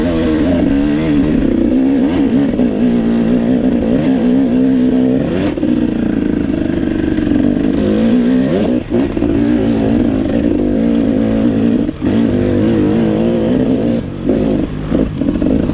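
A 2018 KTM 300 dirt bike engine revs hard and continuously while climbing a steep 45–50 degree mountain hill in a hare scramble race, loud and close throughout, with brief dips as the rear wheel fights for grip.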